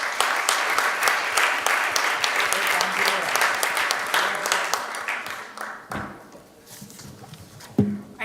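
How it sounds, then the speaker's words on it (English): An audience applauds a panelist at an industry panel session, a dense, steady round of clapping that thins out toward the end, ending with a few scattered claps and a louder knock. "Let's have a round of applause for Mr."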